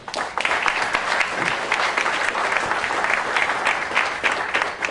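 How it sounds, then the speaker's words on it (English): Steady applause from an audience at an official government announcement, dense and even clapping filling the whole stretch without pause. "I think that deserves a round of applause."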